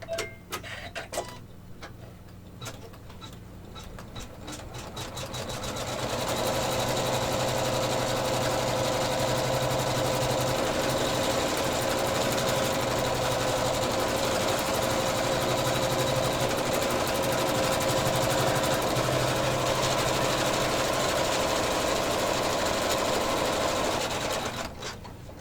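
An embroidery machine sews an appliqué placement stitch, a steady fast mechanical whir running without pause for most of the stretch after a few quieter seconds at the start.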